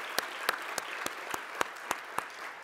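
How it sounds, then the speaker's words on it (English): An audience at a children and youth issues briefing gives a round of applause: a steady patter of clapping with a few sharp, close claps standing out at regular intervals, no talk. "Another round of applause for them from Creative Arts."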